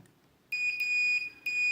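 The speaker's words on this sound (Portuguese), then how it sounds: "Vamos pegar teste de continuidade. Ele tem um bip, né?" A steady high-pitched electronic beep from a Minipa ET-3021a analog multimeter's continuity test sounds twice, a sustained tone briefly interrupted, close and clear in a quiet room.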